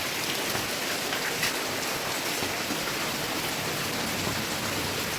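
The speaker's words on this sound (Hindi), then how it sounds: "बहुत ही मूसलाधार बारिश हो रही है" Torrential downpour pounding on a flooded street, a dense, steady hiss of rain that stays loud and unbroken throughout, with no voices over it.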